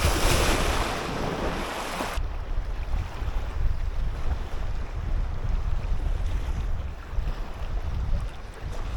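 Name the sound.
sea waves on the shore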